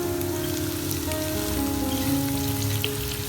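Two medium onions frying in oil with ginger paste in a pan for masala bhindi, a steady close crackling sizzle with a faint hum underneath and no voices.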